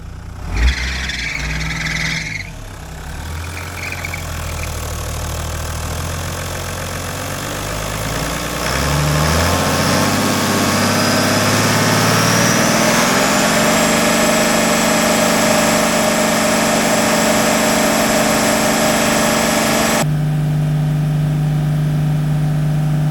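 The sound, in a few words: Toyota LandCruiser HDJ100 engine idling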